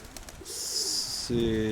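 A pigeon coos close by in a loft, a short low throaty call at the end, following a brief high hiss and faint background murmurs.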